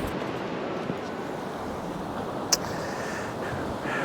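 Ocean waves wash against a rock ledge at Pearl Beach in the early morning, a steady broad roar of surf with a brief sharper splash partway through, heard alone with no voices.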